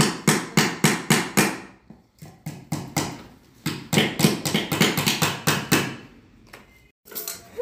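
Hammer blows drive nails into a wooden beehive frame, tightening it, in a steady series of sharp, close, loud strikes with brief pauses between bursts.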